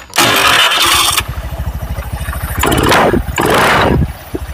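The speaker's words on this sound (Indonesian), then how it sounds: "Sekarang kita nyalakan motornya." A motorcycle engine cranks on the starter and catches, then settles into a steady, close, loud idle with a regular pulsing beat, broken by a few short blips of throttle.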